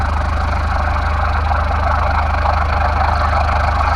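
A small airplane's engine drones loudly and steadily while taxiing at Fairbanks International, a continuous low rumble with no break.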